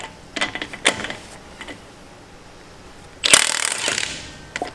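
A 1/2-inch impact gun rattles in a short, loud burst of about a second as it breaks a bolt loose, after scattered metallic clicks and handling clatter.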